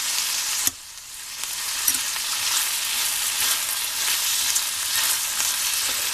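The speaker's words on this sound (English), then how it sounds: "as I cook these vegetables, they will flatten a little, because some moisture will evaporate out of them" Vegetables for a soup cook in a hot pan with a steady, close sizzle and fine crackle, after one sharp knock near the start, and no voices.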